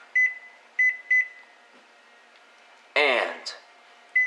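A kitchen timer being set for a baking competition gives a few short electronic beeps in quick succession over room hum, followed by a burst of voices and clatter.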